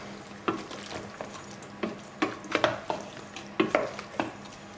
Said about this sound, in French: On va commencer à mélanger tout ça